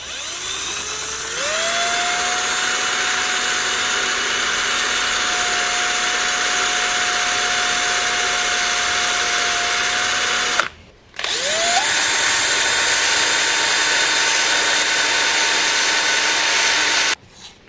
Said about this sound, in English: I've got a very thin drill, and I'm just going to drill my hole.